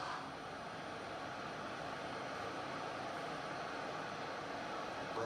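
Continuous drone of a light airplane's engine heard from inside during flight, a steady broadband roar at moderate level with no break.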